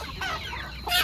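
Free-range village chickens cluck softly close by in a short, faint burst of murmuring calls with a brief louder cluck at the end.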